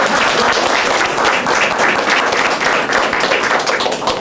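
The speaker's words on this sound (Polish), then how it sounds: "Tutaj brawa powinny być." An audience claps enthusiastically at the Piwnica pod Baranami cabaret, producing dense, steady applause that fills the room at full volume throughout.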